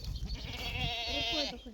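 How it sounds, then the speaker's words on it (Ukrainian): Goats bleat with wavering, quavering cries at a farm visit, one long bleat dominating and overlapping with other animal noise and faint human voices in the background. "Козички, козички. Козички. І це козичка."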